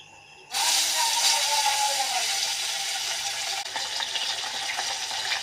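Fish dropped into hot oil for frying, a sudden loud sizzle that starts after a brief quiet and holds as a steady, close hiss with small crackles.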